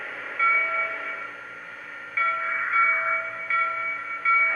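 Standard bell on a Lionel Great Northern Pacific USRA model steam locomotive, cab 1385, ringing as repeated bright metallic tones in steady pulses, close and moderately loud with no voices.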